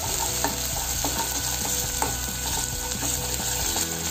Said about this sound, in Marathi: आलं लसूणची पेस्ट घालते आणि ही पण चांगली आपण हे तेलामध्ये परतून घेऊया